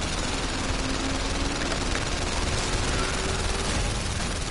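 Gunfire in the VR game The London Heist, shooting at car wheels during a chase: rapid continuous bursts pound loudly over the steady roar of the road and engine, unbroken from start to finish.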